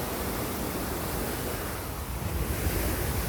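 Heavy rain with rushing water, a dense steady broadband roar close to the microphone that swells slightly toward the end, with no voices.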